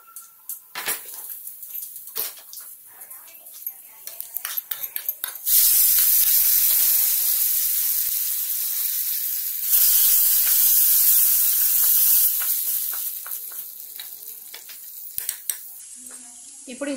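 Asafoetida tempering for cucumber dal fries in hot oil. A few light clinks lead into a loud, steady sizzling hiss that holds for several seconds, surges again, then eases back to scattered stirring clatter.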